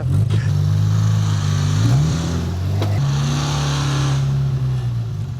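A truck engine revs hard while stuck in deep blizzard snow, a loud sustained drone that rises and drops in pitch as the throttle is worked, with no talk over it.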